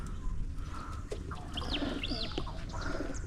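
Racing pigeons at their loft give soft, repeated coos and brief calls over steady outdoor background noise, at a moderate distance with no talking.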